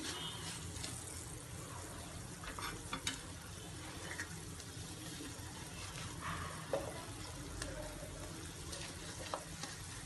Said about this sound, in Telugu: ఇంక ఇప్పుడు ఇందులో పన్నీర్ ముక్కలు యాడ్ చేసుకుందామండి